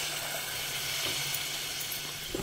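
Water poured into a hot pan of fish curry masala with turmeric and homemade spice mix hisses into a steady, close, bright sizzle that holds throughout.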